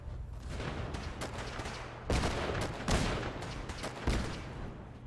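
Repeated explosions and gunfire-like blasts in the video game Fallout 4, a dense sustained barrage with several louder bursts punching through a constant rumbling roar.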